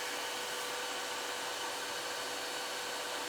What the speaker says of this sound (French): La prochaine étape, ça va être de partir l'aspirateur pour créer une succion.